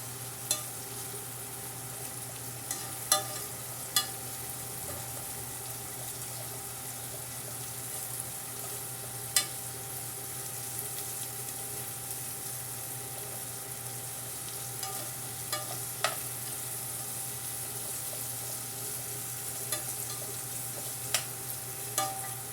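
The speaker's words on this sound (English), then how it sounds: "just stirring the onions with the carrots and celery and garlic powder, salt," Onions, carrots and celery frying in a pot with garlic powder and salt, stirred steadily for lentil soup: a soft continuous sizzle with faint scrapes and light knocks of the spoon scattered throughout, no talking.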